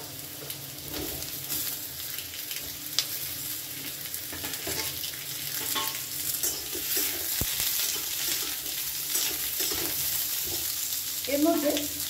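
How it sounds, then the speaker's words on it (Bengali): Cut potatoes and pointed gourd fry in hot oil, making a steady close sizzle with occasional stirring scrapes and a brief clatter near the end. "তেল গরম হয়ে গেছে, এবারে এর মধ্যে কেটে রাখা আলু আর পটলগুলো দিয়ে আমি সামান্য একটুখানি ভেজে নেব।"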